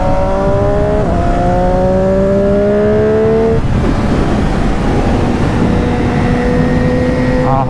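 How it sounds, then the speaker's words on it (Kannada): Triumph Street Triple RS inline-three motorcycle with a dB killer fitted, loud and close as the engine revs and climbs through rising pitch sweeps, then drops and builds again under a constant roar. "ನನ್ನ ಗಾಡಿ ಸೌಂಡ್ ಕೇಳೋದಕ್ಕೆ ಏನೋ ಒಂಥರ ಮಜಾ ಗಾಯ್ಸ್."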